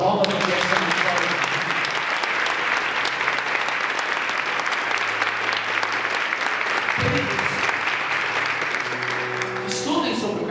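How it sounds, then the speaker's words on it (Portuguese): Church congregation claps steadily and loudly throughout a preaching event on the Eucharist, with tonal music or voices lingering underneath and a brief shift near the end. "Aplauda, aplauda, aplauda"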